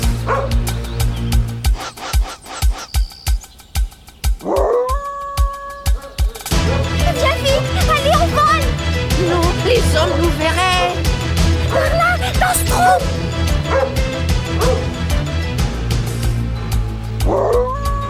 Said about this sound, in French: t'es un brave chien, Brutus, un brave chien